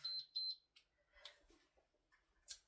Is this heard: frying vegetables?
no